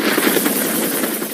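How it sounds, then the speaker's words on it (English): A rescue helicopter hovers almost perfectly in place in the Adirondacks, its rotor and engine making a steady, loud, close wash of noise with faint rhythmic blade pulsing throughout. "helicopter hovering almost perfectly in place"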